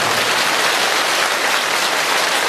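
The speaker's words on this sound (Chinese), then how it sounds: "你们的掌声我都可以送给观世音菩萨" A large crowd at a Buddhist gathering in Penang, Malaysia claps in a dense, continuous roar that holds evenly loud throughout, with no talking over it.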